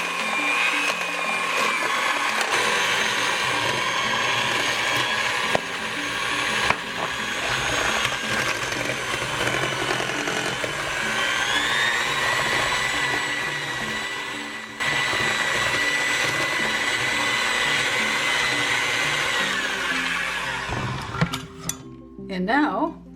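Electric hand mixer whirring steadily through thick Dundee cake batter in a home kitchen, a continuous loud motor drone for about twenty seconds, with a few clatters and scrapes of the bowl near the end.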